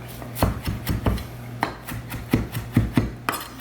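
A knife chops a bunched handful of curly leaf parsley on a board in quick, rhythmic strikes, a dozen or so close crisp taps with faint rustling between them.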